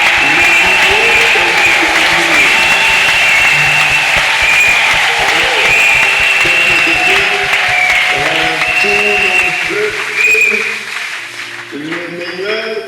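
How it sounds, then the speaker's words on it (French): A church congregation applauds to acclaim the Lord, loud sustained clapping with cheering and voices mixed in, fading somewhat toward the end. "Pour ce message, nous allons acclamer le Seigneur."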